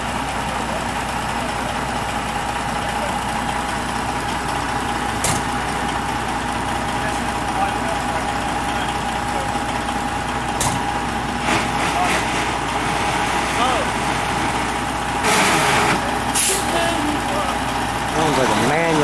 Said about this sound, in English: On a Sterling monorail crane truck.